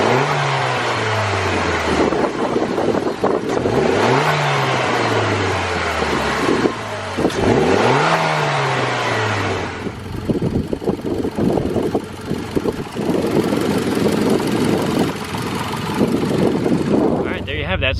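Mitsubishi Lancer Ralliart turbo engine fitted with a GFB Respons blow-off valve set to full recirculation, revving up in three swelling pulls, each easing off with a falling tone, then idling roughly and steadily, loud and close.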